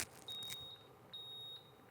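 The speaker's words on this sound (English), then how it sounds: "It's a very good beep." Two thin, high electronic beeps from a water-boiling kettle or coffee machine, the first short and the second longer, over a faint background hum and a brief clatter.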